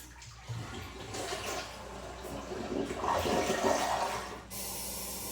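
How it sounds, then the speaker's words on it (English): A household toilet flushing in a bathroom being cleaned, heard close up: a rushing, gurgling surge of water that builds and then cuts off abruptly into a quieter refill hiss. "Give that a flush."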